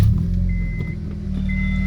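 A car drives with a steady, loud low engine rumble and road drone, heard from inside the cabin without any talking.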